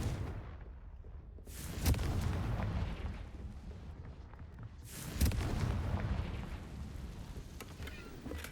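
Confringo and Bombarda spell explosions in the Hogwarts Legacy video game: two heavy booming blasts a few seconds apart, each followed by a rumbling, crackling tail, over steady background din.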